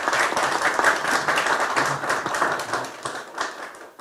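An audience at the 111th Asia Forum with Kang Dae-sik applauds in a dense, steady burst of clapping that stays close and loud and then thins out toward the end.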